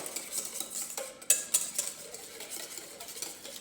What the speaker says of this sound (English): I'm just going to whisk them together.